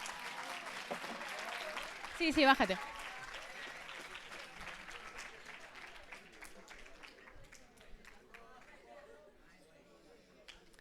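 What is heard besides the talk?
audience applause for Marcos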